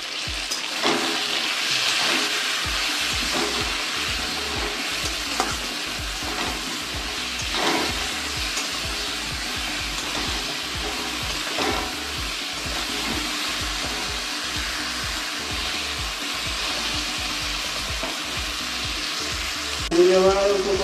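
Chopped tomato and green chili sizzle in a pan with salt and turmeric, a steady frying hiss that runs throughout, broken by frequent scraping and stirring clicks from a spatula.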